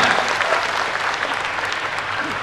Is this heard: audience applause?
yes